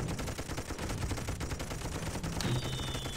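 Rapid sustained gunfire from the video game Toy Soldiers, a dense continuous burst of machine-gun shots with no talking.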